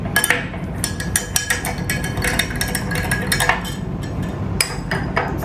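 A spoon stirring salt into water in a glass, making rapid bright clinks and taps against the glass in a steady, close run.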